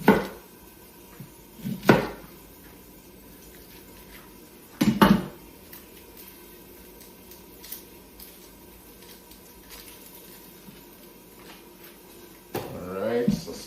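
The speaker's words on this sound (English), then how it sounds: "I'm quickly gonna grab that from my cupboard" Kitchen cupboard noises are heard as an onion is fetched: a few sharp knocks and clatters of doors and dishes, close and intermittent, with a rustle at the end.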